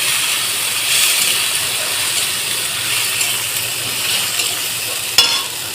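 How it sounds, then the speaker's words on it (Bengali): Shrimp frying in spice paste, a loud steady sizzle and crackle that runs throughout, broken near the end by a sharp scrape or clank. "বন্ধুরা মশলার সাথে চিংড়ি মাছটা আমি হালকা করে ভেজে নিয়েছি"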